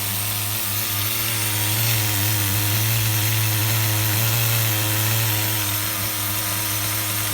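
An HPI RS4 nitro RC F150 truck's small glow engine idles steadily on the bench, a loud, continuous buzzing drone with a strong low hum that holds even throughout.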